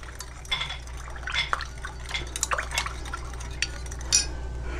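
A natural pH adjuster solution for cosmetics is stirred in a container, light clinks and liquid swirls sounding in irregular bursts close by against a steady low hum.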